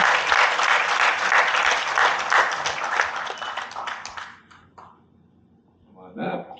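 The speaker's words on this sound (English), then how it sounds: "Give them a round of applause." An audience claps for volunteers coming up on stage at an event, a dense, steady burst of applause that thins and fades out, then a voice speaks briefly.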